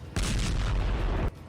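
A blast at the Zaporizhzhia nuclear plant: a sudden loud, dense boom that starts abruptly and rumbles at a steady level for about a second before cutting off sharply, heard alone with no voices.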